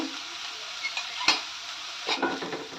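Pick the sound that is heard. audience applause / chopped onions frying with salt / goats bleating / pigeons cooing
chopped onions frying with salt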